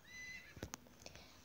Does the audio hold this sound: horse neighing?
yes